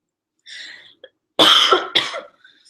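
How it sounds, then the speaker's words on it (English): Two loud, close coughs in quick succession, preceded by a soft breathy throat sound; quiet otherwise. "Whoa, first cough."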